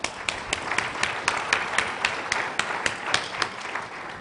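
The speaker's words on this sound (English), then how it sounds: "let's have a round of applause for all of our panelists" Sparse, faint clapping from a small audience at a children's nutrition forum panel, the individual claps landing in a steady, fairly quick rhythm at a distance with little crowd noise around them.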